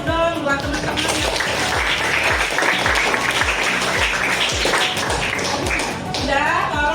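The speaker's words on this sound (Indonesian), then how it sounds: "Coba beri aplaus dulu dong buat teman-teman" Classroom applause for classmates: a room of students clapping steadily and loudly for several seconds, with scattered voices chattering underneath.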